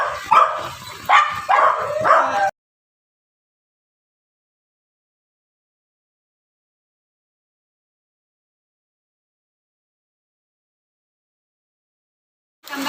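A dog barks and yips in a quick run of close, loud barks over about two seconds, then silence, with another short bark at the very end.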